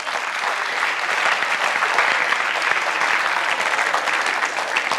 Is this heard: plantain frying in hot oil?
no